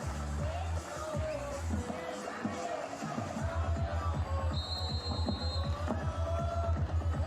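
Crowd noise swells through a beach volleyball quarter-final between Brazil and Team USA at a BPT event in Brazil, a steady loud roar of spectators answering a player's call, with a commentator talking over it.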